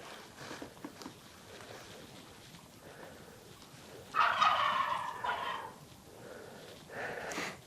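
Wild turkey toms gobble in the open during a Nebraska spring hunt, one loud rattling gobble near the middle and fainter calls before and after, at moderate distance over quiet outdoor background.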